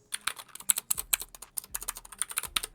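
Rapid mechanical keyboard typing up close on a Glorious GMMK 2 with Gateron switches, with a dense run of sharp, clicky keystrokes in an uneven rhythm.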